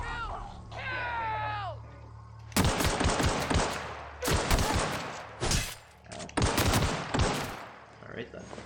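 Video game gunfire: bursts of rapid, loud automatic shots in several clusters, preceded by a whining, descending tone and a low hum, with a voice talking during the shooting.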